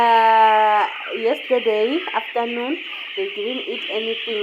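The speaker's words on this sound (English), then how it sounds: "I hope you can hear the way they're crying." Hungry chickens crying with rapid, repeated plaintive clucks and calls, close and fairly loud, starting with one long sustained call and continuing while a person talks.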